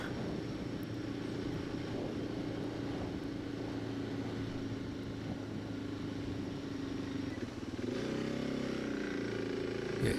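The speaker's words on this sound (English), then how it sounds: "now I'm racing a plane" A Suzuki DR650 motorcycle runs at a steady pace beside a flying airplane, a constant engine drone and roar holding level throughout, with the pitch shifting and rising near the end.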